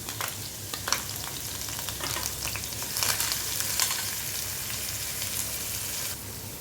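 Onions sizzle and crackle in hot oil in a pan while being stirred, a steady close frying hiss with occasional sharper pops and scraping.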